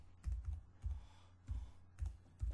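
Keystrokes on a computer keyboard, about six short clustered taps in uneven bursts, close and quiet with no talk.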